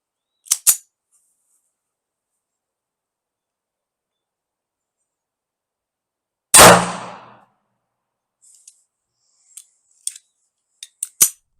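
Sharp, close reports from a Colt Mustang Pocketlite pistol, a couple of quick cracks then one loud shot with a short decay, followed by faint metallic clicks.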